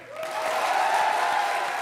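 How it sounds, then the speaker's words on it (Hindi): A studio audience at a televised comedy show bursts into loud, sustained applause that swells quickly and holds steady for a couple of seconds with no one talking over it. "जोरदार ताली बजाओ फिर"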